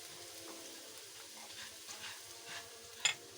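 Garlic sizzles softly as it is stirred and sautéed in a pan, a quiet continuous frying hiss with faint scrapes, then a brief clink of utensil near the end.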